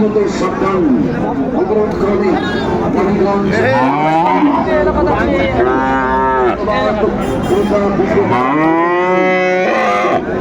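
Friesian and crossbreed bulls at a cattle market in Dinajpur moo repeatedly, several loud drawn-out calls rising over steady crowd chatter and people talking.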